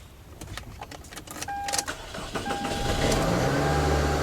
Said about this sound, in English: It actually cranked up, but it's a very slow crank.